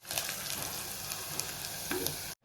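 Close, crackling sizzle of tempering spices frying in hot oil for gongura dal, with a few sharp pops, ending abruptly in silence.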